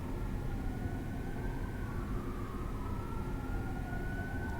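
Several sirens wail at a distance over the steady rumble of a Class 378 train running the North London Line through London in Train Simulator Classic, their pitches rising and falling against each other.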